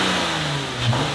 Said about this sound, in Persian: بره تو گاز بده، ما این ذره از این موتور صفا ببریم